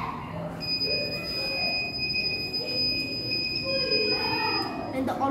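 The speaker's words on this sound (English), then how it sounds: "The buzzer will make a sound to alert the blind person." Buzzer on an Arduino-based smart blind stick with an ultrasonic sensor gives a steady, high-pitched electronic tone lasting several seconds, moderately loud, with someone talking over it.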